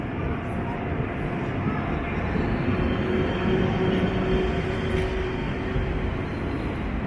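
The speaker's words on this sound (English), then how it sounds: "So this is the train station of Antwerp here in Belgium" Broad, echoing rumble of the large Antwerp train station hall in Belgium, with a steady wash of mechanical noise and indistinct background voices throughout.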